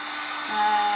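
A heat gun or hair dryer blows a steady, close airy whoosh while heating a piece for a refurbished cross and frame craft, with a faint tonal whine that grows slightly louder partway through.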